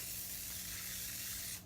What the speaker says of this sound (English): I'm going to give it one good little spritz here